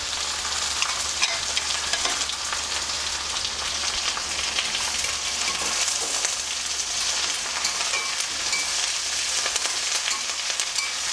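Curry leaves frying in a pan with banana flower petals, a dense, even sizzle that crackles steadily throughout with no voices.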